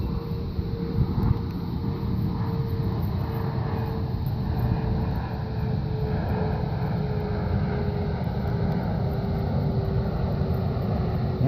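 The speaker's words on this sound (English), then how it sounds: "I don't know if you can hear over that airplane" Propeller airplane droning steadily overhead, a continuous low engine hum with a faint tone slowly drifting, loud and unbroken throughout.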